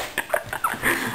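A dog whimpers and whines in short, uneven bursts close by during a kitchen cooking session, the high thin cries rising and falling over about a second.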